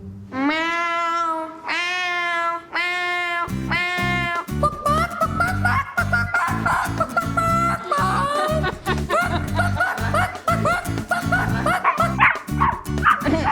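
A person gives a few long, drawn-out howling dog imitations, then breaks into rapid choppy barking and yipping noises, loud and close.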